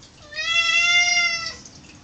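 A house cat gives one clear, drawn-out meow, close and fairly loud, lasting just over a second against quiet background.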